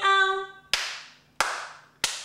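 A short sung tone fades into three crisp, evenly spaced hand claps that keep the beat of the children's song Bingo, each close and bright with a brief ringing decay.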